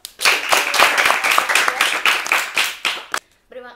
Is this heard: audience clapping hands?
yes